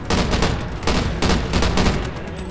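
Sustained machine gun fire in the Call of Duty Ghosts video game, a loud continuous rattle of rapid shots with brief bursts and pauses, dense and close with no talking.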